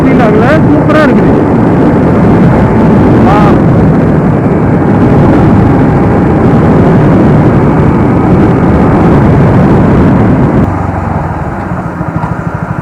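Suzuki Gixxer SF 250 BS6 motorcycle cruising at around 100 km/h, a steady loud engine drone mixed with wind rush heard from the rider's position, with someone talking over it throughout.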